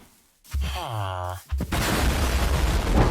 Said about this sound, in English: Explosive Enchantment adds in an animation to all explosions in your world, and it's a wicked effect.